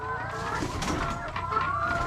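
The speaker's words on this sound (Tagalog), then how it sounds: "Daming manok na ito." Chickens clucking and crowing in a crowded yard or coop, a steady close chorus of calls running the whole time over low background noise.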